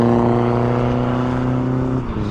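A diesel car engine at a BMW drifting event holds a steady, humming drone with a clear tonal buzz, then shifts slightly in pitch near the end.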